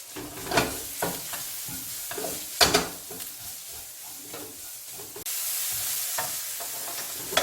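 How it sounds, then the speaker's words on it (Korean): Julienned carrots stir-frying in oil with salt for kimbap, a crackling sizzle broken by repeated scraping and tossing strokes, one sharp clatter midway, then a louder, steadier hiss near the end. "제일 먼저 당근 채 썰어 놓은 거요. 볶을게요"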